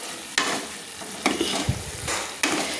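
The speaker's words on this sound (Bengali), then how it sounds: "দিয়ে আমি আরেকটু ভালো করে খুন্তি দিয়ে নেড়ে নিয়েছি" A metal spatula scrapes and stirs a vegetarian Bengali Malabar spinach chochhori in a pan, giving four distinct scraping strokes at uneven intervals over a steady sizzle of frying.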